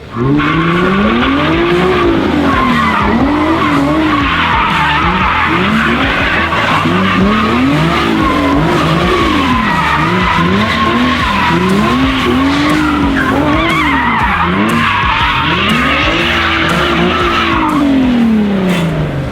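A takeover car drifts around a track, its tires squealing continuously while the engine revs in rising and falling waves through each slide, loud and close for the whole stretch with no talk.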